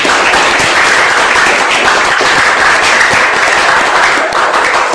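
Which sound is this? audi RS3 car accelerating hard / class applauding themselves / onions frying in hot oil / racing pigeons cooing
class applauding themselves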